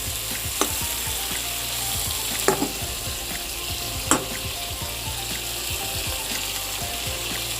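Pointed gourd (potol) frying on high flame in a pan, a steady close sizzle running throughout with a few sharp clicks and stirring knocks.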